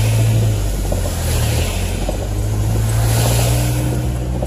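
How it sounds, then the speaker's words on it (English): Cars drive through deep flood water on a road, making a loud, continuous rushing wash of spray mixed with a low engine rumble, with no pause across the whole stretch. "Look at all that water from these cars."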